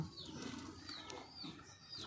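A female pigeon coos softly. The low, rhythmic calls repeat several times and sit close by, with faint wing movement and quiet chirps in the background.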